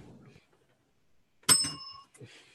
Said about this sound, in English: Can you hit the bell for me?